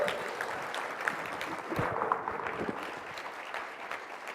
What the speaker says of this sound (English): please give me a round of applause and hoo-has for Amy Lynch